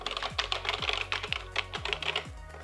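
Keys are typed on a vintage Matra Alice 90 computer with an AZERTY keyboard. The clacking is fairly noisy and close, coming in quick irregular bursts of a few strokes at a time, with no voices.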